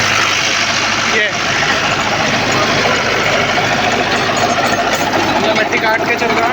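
Tractor engine running steadily under load while plowing and cutting through soil at about 150 rpm drop, a loud continuous mid-range drone with clanking, no clear speech over it.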